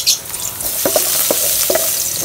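Garlic sautéing in a pan for chicken sotanghon soup, giving a steady close sizzle with a few stirring scrapes and clicks over it, and no talk.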